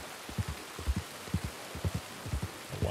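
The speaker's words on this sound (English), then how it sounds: "Oh, wow, this rain is so cool." Rain falling in the Red Dead Redemption 2 game world: a soft, steady hiss with a series of low, rhythmic thuds pulsing underneath, fairly quiet and without speech.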